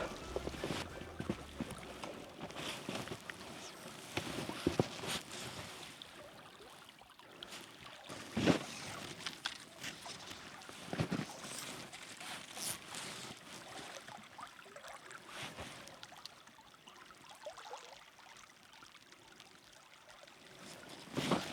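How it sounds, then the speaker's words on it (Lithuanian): A small wintry trout stream flows with a quiet, continuous trickling rush, faint and even throughout with occasional soft splashes, and no voices. "Atrodo labai gražus upelis."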